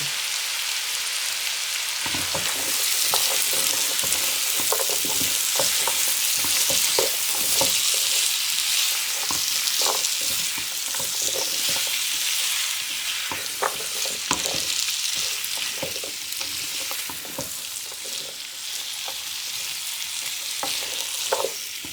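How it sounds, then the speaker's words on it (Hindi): Carrots and potatoes frying in oil in a pan over medium heat for vegetable pulao: a loud, continuous close sizzle like rain on a surface, broken by frequent scraping stirs and clinks, with no voices. "और आलू भी डाल देते हैं और थोड़ा सा 2-3 मिनट के लिए फ्राई करेंगे"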